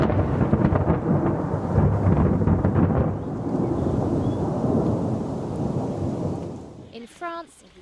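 A heavy roll of thunder rumbles loudly over steady rain during a European hailstorm with lightning, fading gradually, before a faint voice is heard at the end.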